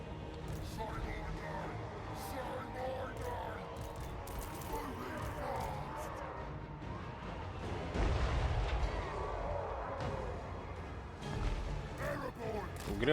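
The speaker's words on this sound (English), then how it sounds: "That's a good target for a hell cannon." Hell cannon shots in a Warhammer strategy game, heavy booming artillery blasts and impacts mixed into a dense battle din, with a louder burst of explosions midway, all under spoken commentary.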